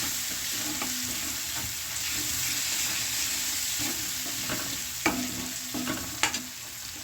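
Garlic and red chili tempering sizzles in hot oil as it is stirred in a pan, a steady bright frying hiss with occasional spoon scrapes and taps near the end, no talking.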